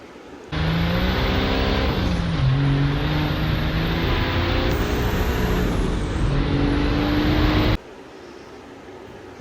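A machine engine roars at high RPM, a loud, steady, close-up drone that starts abruptly, holds with slight pitch shifts for about seven seconds, then cuts off sharply.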